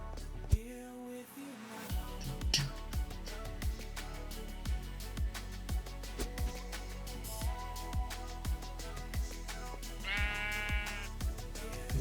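Sheep bleating in a Minecraft modpack game, several short synthetic bleats over a soft, steady game background with rhythmic plucked music notes, fairly quiet and with no talk.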